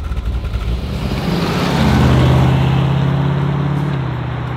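A 1968 Shelby GT500KR Fastback in Wimbledon White, V8 engine rumbling up from a low growl into a loud sustained rev, then easing slightly, heard close from inside the car.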